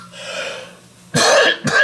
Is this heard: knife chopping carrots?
no